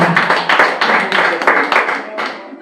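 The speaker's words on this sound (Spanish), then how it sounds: "Dale un aplauso a Cristo." Church congregation applauding for Christ during a lively Spanish-language sermon, a dense run of clapping with repeated swells over about three seconds, fairly close and loud, with voices mixed in.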